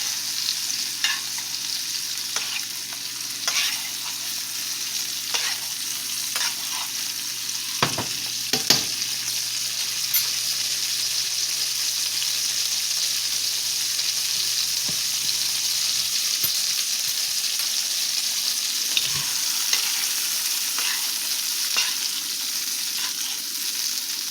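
Chicken breast frying in a pan while being basted: a continuous bright sizzle with occasional spoon taps and scrapes and sharp spatters, steady and close throughout with no talk.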